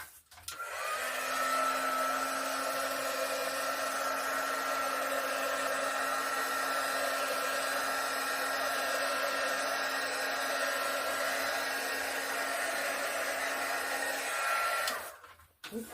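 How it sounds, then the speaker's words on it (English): A heat gun blowing over an acrylic pour painting, a loud steady whooshing drone with a constant motor hum, switched on and running for about fourteen seconds before cutting off. "I'm going to hit it quick with a heat gun."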